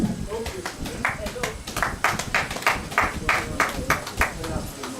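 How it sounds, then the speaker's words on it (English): Applause at a school alumni anniversary celebration in Ilorin, a brisk run of sharp, fairly close hand claps in an uneven rhythm, with a voice speaking over them. "Applause for him."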